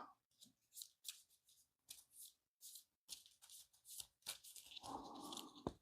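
Playing cards from a board game are shuffled by hand at close range, quiet crisp riffling in short repeated bursts with a longer rustle at the end.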